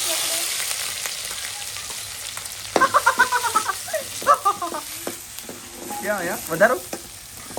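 Onion fries in hot oil in a home kitchen pan, giving a continuous close sizzle broken by stirring scrapes and clatters, while a person talks briefly over it.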